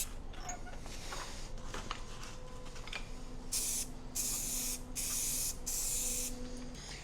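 Spray paint hisses onto an old 4x4 ATV in several bursts, the later ones louder and longer, over a quiet, steady outdoor background.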